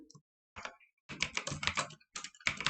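Typing on a computer keyboard while coding Python, heard as short bursts of close key clicks with pauses between them, no talking over it.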